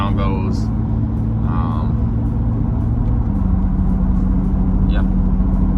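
A JuiceBuilt twin-turbo Corvette E-Ray cruises steadily at 60 mph, giving a loud, even low-pitched road and engine drone with tire rumble, unchanging throughout, while someone speaks briefly.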